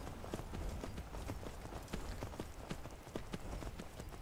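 Horse hooves while riding in the video game Skyrim, a steady quick clip-clop of galloping steps, quiet and even, with the rider's voice faint underneath.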